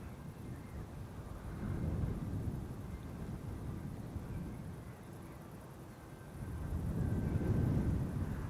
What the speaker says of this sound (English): This is Transavia flight 6338, arriving from Valencia